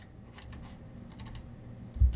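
A few light keystrokes on a computer keyboard, then a firmer press of the enter key at the end, close and clear over faint room hum.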